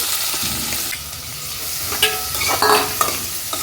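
Onions and green chilies fry in hot oil, giving a loud, close, continuous sizzle with occasional stirring scrapes and pops.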